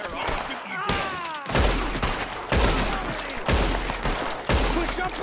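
Repeated gunshots ring out in Red Dead Redemption 2, loud sharp blasts spaced about every second amid shouting voices and ricochet-like whistles.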